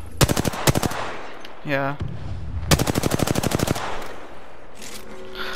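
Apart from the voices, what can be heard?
gunfire in the video game Apex Legends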